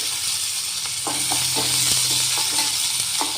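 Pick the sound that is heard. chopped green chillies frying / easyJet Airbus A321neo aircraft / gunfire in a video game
chopped green chillies frying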